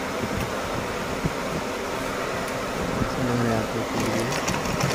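An electric sewing machine stitches a bag with a steady whirring drone across the whole stretch, a few sharp clicks mixed in, and the motor swells a little toward the end.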